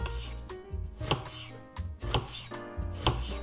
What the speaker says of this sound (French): Donc je vais couper l'oignon